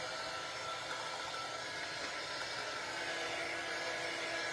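A hair dryer blows steadily to dry paint indoors, a constant, even whooshing hum with no change in pitch or level and no voices.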